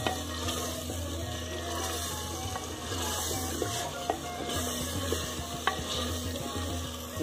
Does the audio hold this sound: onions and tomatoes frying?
yes